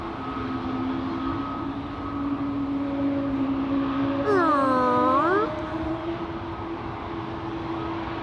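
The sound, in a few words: Emirates airliner flight 146 to Dubai taking off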